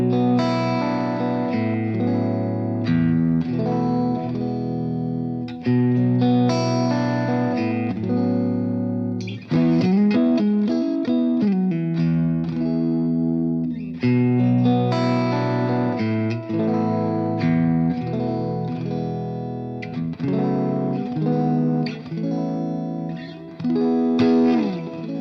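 Clean-to-crunchy electric guitar through a small all-valve AMS Twister 5 amplifier plays melodic chords and single-note runs with a warm, full tone, continuous and fairly loud.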